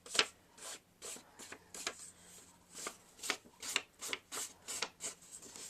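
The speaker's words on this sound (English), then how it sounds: "I'm going to go ahead and kind of just ink around the edges of the card" Tim Holtz Distress ink pad, Pine Needles shade, dabbed and rubbed around the edges of a card and its patterned paper, producing soft, repeated brushing scuffs in an uneven rhythm, close and quiet, with no talking.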